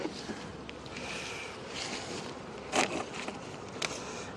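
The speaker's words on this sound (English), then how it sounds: "I do have a lot of bees in here." Honey bees buzz around an opened beehive, a steady droning swarm held close with a few sharper bursts as bees fly past.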